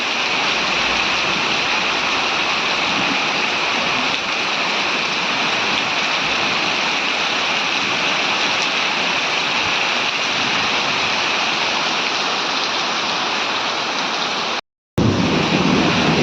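Heavy rain pours in a steady, dense hiss that barely changes, broken by one very brief silent gap near the end.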